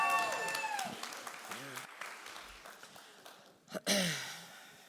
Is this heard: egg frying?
no